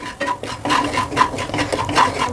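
Spices such as cumin powder and chaat masala being stirred into a pan for makhana fry, a close, steady scraping and clinking of a spoon against the metal pan with a continuous rhythm.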